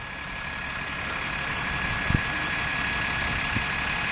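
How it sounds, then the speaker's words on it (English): A British double-decker bus engine idles nearby in a steady low rumble with a constant whine, plus a couple of faint clunks, heard outdoors with no speech. "If you want to see a British double-decker bus."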